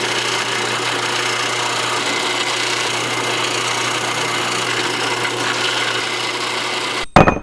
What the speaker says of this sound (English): Did not think I could drill through a grade 8 bolt.